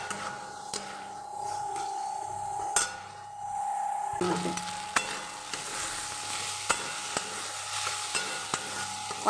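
Spice mixture for ghugni being sautéed and stirred in a pan, a steady close sizzle with repeated sharp scrapes and taps of a spoon against the metal, no talk.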